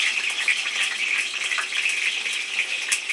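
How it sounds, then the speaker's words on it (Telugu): Chopped onions fry in hot oil in a home kitchen for fish curry, a steady bright hiss of sizzling that carries on evenly and close, with no voices. "ఇప్పుడు ఆనియన్స్ ఫ్రై అవుతున్నాయి"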